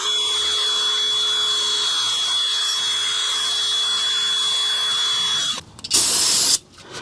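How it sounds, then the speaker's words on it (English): A wire wheel spinning on a drill scrubs brake caliper slide pins from a 2011 Toyota Tundra, a steady whirring grind with a high whine, followed by a brief louder burst near the end. "I'm going to clean these up with some brake cleaner and a wire brush"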